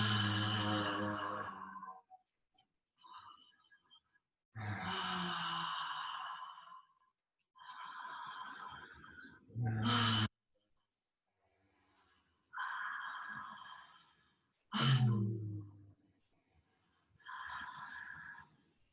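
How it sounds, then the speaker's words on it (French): A person takes deep, forceful breaths during a dynamic breathing exercise, long audible inhales and exhales separated by silent pauses, close and clear with no speech. "Respiration dynamique."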